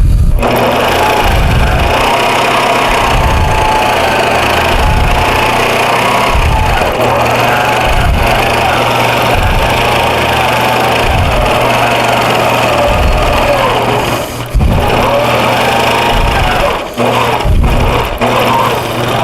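A sewing machine quilts along a paper pantograph, producing a loud, steady mechanical drone with a regular low thumping pulse that runs throughout, with some rustling near the end.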